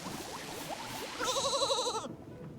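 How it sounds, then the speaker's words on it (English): A small rolling sheep in the video game Infinity Nikki lets out a single wavering, nasal bleat lasting about a second, clear and close over faint background game sounds, ending abruptly. "We got a little rolling sheep."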